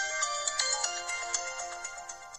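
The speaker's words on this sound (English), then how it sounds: "the boot up sound and shutdown sound" A LEMFO LEM15 Android 10 smartwatch plays its boot-up chime: a bright, ringtone-like melody of quick notes over about two seconds, clear and close with no talking.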